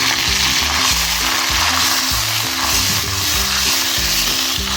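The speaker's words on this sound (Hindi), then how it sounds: "ये मसाले को अच्छी तरह भून लेंगे।" A masala of onion, tomato, green chili, ginger and garlic fries in ghee in a pan, a loud continuous sizzle up close with rhythmic stirring and scraping underneath.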